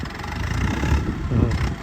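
An old 1970-model tractor engine runs after being started, a steady low rumbling idle that holds throughout, close and fairly loud with some uneven chugging.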